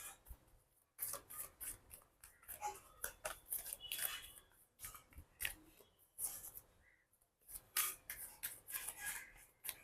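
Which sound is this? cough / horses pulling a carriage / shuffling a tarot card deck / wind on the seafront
shuffling a tarot card deck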